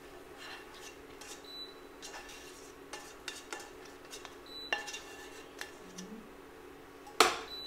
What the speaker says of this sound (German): Beginne es schon mal durchzumischen.